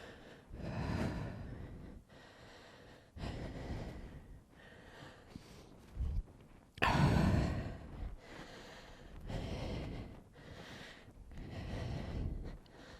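Heavy breathing while recovering between HIIT rounds on a mat, with repeated deep gasps and exhales in an uneven rhythm, one sharper louder breath in the middle, close and fairly quiet.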